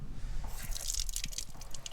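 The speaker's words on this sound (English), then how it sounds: "And you have running water there, which is great." Water runs from a tap into a Belfast sink in an outdoor pizza oven area, a soft, steady trickle and splatter heard close up without any talk.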